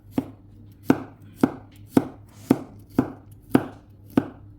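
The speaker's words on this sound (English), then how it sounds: "I've got 1 large onion that I've cut and diced into small pieces" A knife dices a large onion on a cutting board in eight sharp, evenly spaced chops, each one loud and close, over a faint steady hum.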